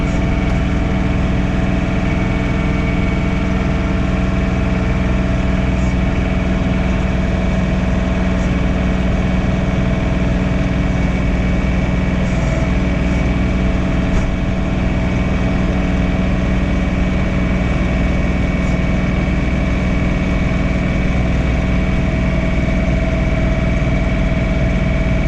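A John Deere 3046R compact tractor engine runs at a steady, loud idle-like drone throughout, low and continuous with no breaks, on a snowy driveway with a snow shovel on the three-point hitch.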